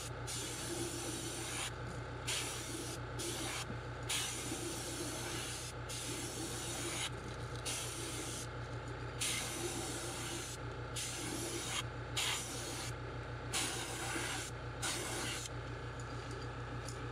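Airbrush spray hissing in steady bursts as paint is dusted over a custom crawfish fishing lure, short pauses between passes, close and continuous over a low electrical hum.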